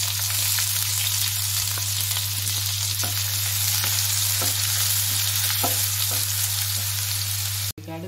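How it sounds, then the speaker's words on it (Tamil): Fennel seeds and onion frying in hot oil for a chicken gravy, a loud, continuous close-up sizzle with faint crackles and an underlying hum, cutting off abruptly just before the end. "எண்ணெய் காஞ்சோன்னே இந்த அளவு சோம்பு மட்டும் போடுங்க அது பொரியட்டும் அதுக்கு அடுத்து இந்த வெங்காயம்"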